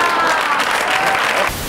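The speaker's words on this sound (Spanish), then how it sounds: "¿Y esos aplausos a qué vienen?" Studio audience breaking into brief, dense applause, loud and continuous before dropping off abruptly near the end.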